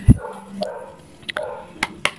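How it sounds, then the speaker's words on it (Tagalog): A dog barks several times, short sharp barks spaced out over a couple of seconds, the first loudest and the rest a little farther off, with no one talking. "Kung meron po kayo naririnig na aso, huwag nyo na lang pagtuunan ng pansin"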